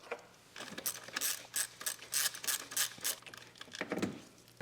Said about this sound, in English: So what I have is an 8mm, and what we're gonna do is we're gonna go ahead and just loosen it and remove it